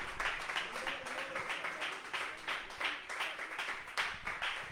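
A church congregation claps and applauds together during a worship service, with steady, dense clapping sustained throughout and no talking.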